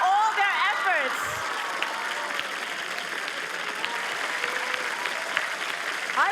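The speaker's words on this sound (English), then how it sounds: "Please give them a big round of applause" Sustained audience applause for competition teams at the grand finals of a national STEM championship, a dense steady wash of clapping from a large crowd, with a brief voice over the start.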